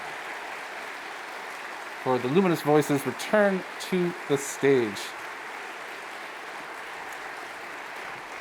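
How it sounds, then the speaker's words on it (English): Sustained applause from a concert hall audience forms a steady wash throughout, with an announcer speaking over it in the middle stretch. "The audience continues to applaud here at the Bella Concert Hall"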